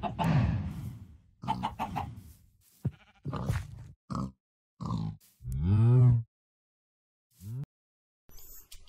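Chickens cluck and grunt in Minecraft (Sky Factory 3 modpack) during chicken breeding, with a string of short, near, loud blocky calls separated by silent gaps.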